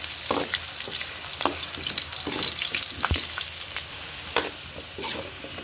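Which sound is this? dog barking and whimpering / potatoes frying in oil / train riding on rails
potatoes frying in oil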